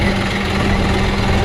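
A tractor engine runs steadily nearby as it is driven toward a main road, producing a heavy, continuous low-pitched drone with a vibrating rattle and an even loudness.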